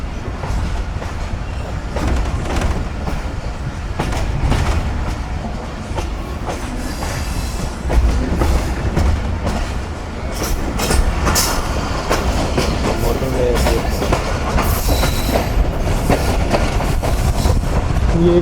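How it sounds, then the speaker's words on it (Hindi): Millat Express passenger train rolling steadily as it crosses from a loop line back onto the main line, a continuous loud rumble of wheels and carriages with scattered clicks and knocks from the track. "ये दोबारा ट्रेन ट्रैक चेंज करके मेन लाइन पर आ रही है"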